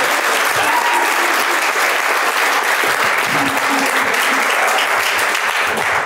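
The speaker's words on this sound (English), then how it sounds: "Give Dave a round of applause." An audience at a real estate panel event gives a dense, even round of applause that fills the whole six seconds without a break.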